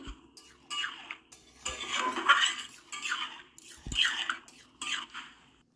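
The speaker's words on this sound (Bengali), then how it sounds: "ডালটা ঢেলে দিলাম এবার ভালো করে একটু নেড়ে চেড়ে দেবো মশলার সাথে ডালটাকে মিশিয়ে দিতে হবে" Masoor lentil dal mixed with spices and spinach being stirred in a pan, a spoon scraping and squishing through the thick mixture in several close, uneven strokes with soft clinks and no voices.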